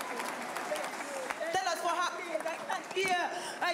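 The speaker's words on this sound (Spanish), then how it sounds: "Demos un aplauso a Jesucristo." A church congregation claps for Jesus Christ at a faith-healing service, steady applause running throughout with voices calling out and cheering over it.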